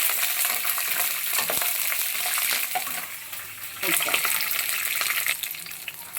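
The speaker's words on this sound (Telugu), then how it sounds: "ఇప్పుడు పచ్చిమిర్చిని కూడా వేసుకుని కలిపి వేయించుకోవాలి." Peanuts and green chillies frying in a pan, a steady broadband sizzle with scattered crackles and light stirring scrapes running continuously throughout.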